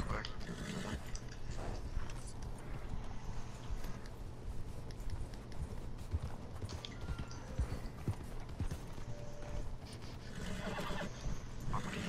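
Horse whinnying and clopping in a video game set in North Ambarino, a loud neigh at the start and again near the end over hoof clops and ambient game sound, with someone talking.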